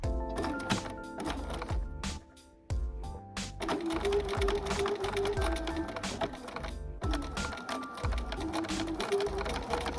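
A sewing machine stitches a garment seam in rapid mechanical bursts with a brief pause near the start, then a long steady run, loud and close with no talk.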